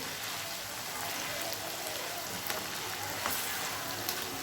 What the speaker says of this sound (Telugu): ఇలాగా సిమ్లో పెట్టి ఈ అల్లం వెల్లుల్లి కూడా పచ్చి వాసన పోయేంత వరకు కూడా కొంచెం కలర్ మారేంత వరకు ఈ ఆయిల్లోనే వేయించుకుందామండి.